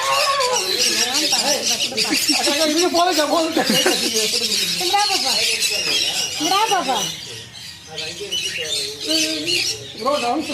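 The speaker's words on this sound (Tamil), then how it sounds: "3 பறவைகள்." Birds at Yelagiri squawk and call repeatedly, close and loud, with rising and falling cries coming in quick bursts while people talk nearby.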